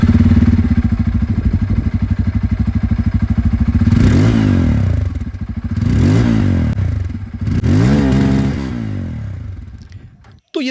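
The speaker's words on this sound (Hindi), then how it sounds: "एग्जॉस्ट आवाज़ इसकी आप लोग सुन लीजिए।" A Bajaj Pulsar F250 with a dual-barrel exhaust idles with a steady throbbing note near the mic, then blips the throttle in three or four rising and falling revs, each swelling louder before dropping back to idle.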